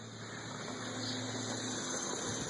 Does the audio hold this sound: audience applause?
no